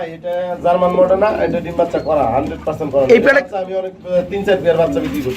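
A breeding pair of Modena pigeons coos in soft repeated throaty bursts, mixed with close conversation from people nearby.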